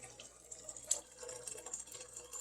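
Freshly boiled water from an electric kettle poured over tea bags, a faint soft trickling splash of liquid, quiet and close, with no talking.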